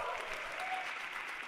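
Audience applause at a tech conference keynote for an AI company's product launch event, steady dense clapping from a large crowd, moderately distant and even throughout.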